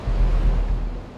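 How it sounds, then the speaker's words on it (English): Strong wind buffets the microphone over a steady rush of sea waves on a cold February afternoon at Peterhead, with no voices. "A cold and windy afternoon in February."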